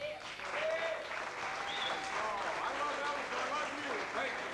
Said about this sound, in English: John, a second round of applause.